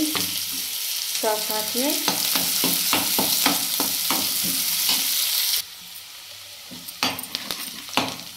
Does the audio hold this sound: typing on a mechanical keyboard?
no